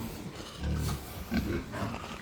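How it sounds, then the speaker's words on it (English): Large White and black pigs on a Colombian farm grunt in a couple of low, close bursts, with steady pen noise between them. "This is more the large whites and the black pigs."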